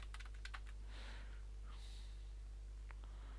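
A short burst of random keystrokes on a computer keyboard while a PC is in use, a quick cluster of close clicks followed by a couple of isolated taps over a low, steady electrical hum.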